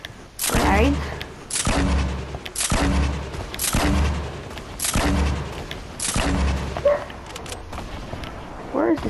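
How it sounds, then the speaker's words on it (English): Grenades explode in a Fortnite duos match as a series of sharp, booming blasts about a second apart, loud and close, with players talking between them. "Grenades."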